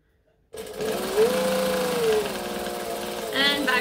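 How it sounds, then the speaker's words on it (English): A sewing machine stitches the base of a fabric bag. It starts abruptly and runs as a steady, close, continuous whirring hum, with a slight rise in pitch near the end. "we're going to sew the whole base of the bag together"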